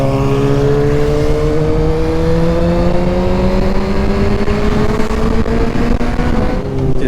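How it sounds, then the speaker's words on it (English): A Kawasaki ZX6R motorcycle fitted with an Austin Racing exhaust revs loudly and steadily, its engine pitch rising slowly over several seconds before dropping near the end, close by with no talk. "The ZX6R sounds brutal with that Austin Racing exhaust."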